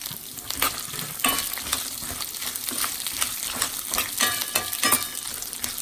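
Red and green chillies frying in a pan with chana dal for lemon rice, a close crackling sizzle broken by repeated scraping stirs at an uneven rhythm, with no talking.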